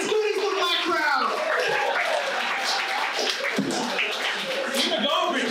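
Sustained applause and cheering from a comedy club audience after a stand-up comedian's set, a dense crowd wash lasting several seconds with voices mixed in over it.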